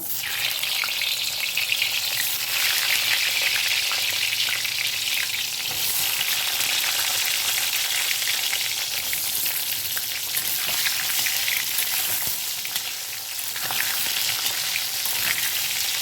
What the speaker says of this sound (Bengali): তেলটা গরম হয়ে গেছে এবার আমি পটলগুলোকে ভেজে নেব